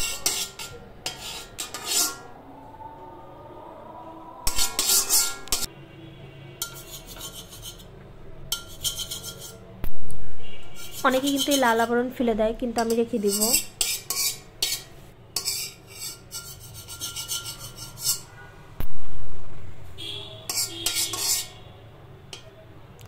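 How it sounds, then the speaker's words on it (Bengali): Peanuts roasted in a pan on a stove, giving bursts of scraping, rattling and stirring with quiet gaps between them, while someone talks briefly in the middle. "আমি এখন বাদামগুলো ভেজে নিব।"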